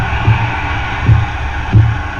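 Three dull, thudding punch sound effects land at roughly even intervals in an old Jack Dempsey versus Jess Willard boxing film, over a steady noisy film-soundtrack hiss.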